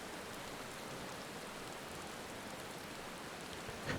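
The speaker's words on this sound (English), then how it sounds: "of course it has to be raining right now" Steady, quiet rain falls in the Final Fantasy XIV video game as an even, continuous hiss with no breaks, alone and without voices.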